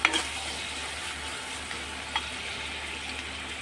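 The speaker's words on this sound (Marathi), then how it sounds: "पहिले आपण यामध्ये कांदा फ्राय करून घेणार आहोत।" Onion frying in a pan for a soybean and egg curry, a steady soft sizzle with a few faint scrapes of stirring near the start, no voices.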